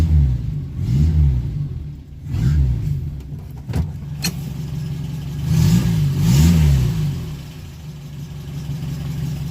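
A Renault 10 car engine idles steadily nearby at about 750 rpm, with a low rumble that swells and eases a few times and occasional light clicks.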